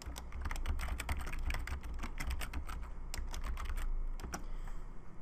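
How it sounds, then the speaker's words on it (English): Rapid, steady keystrokes on a computer keyboard as a web search is typed in, dense clicking that continues for about five seconds at close range with no voices. "just go to Google, type in scratched metal texture."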